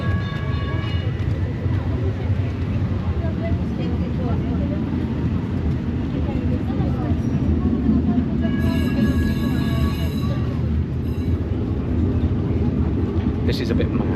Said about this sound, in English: It's like riding a vintage tram down the main pedestrianised street of your city.